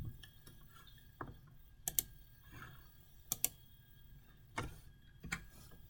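A computer keyboard is typed on in a few sparse, quiet clicks, with short clustered taps spread across a near-silent room.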